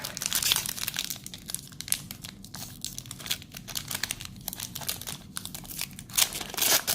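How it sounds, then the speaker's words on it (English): A War of the Spark Magic: The Gathering booster pack wrapper is torn open up close, with stiff foil crinkling and tearing running continuously through the clip and no voices. "because this pack was difficult to open"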